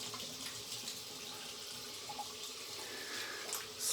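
Water runs steadily from a tap while soap lather is rinsed off, a continuous close splashing hiss that swells slightly louder near the end, with no talking.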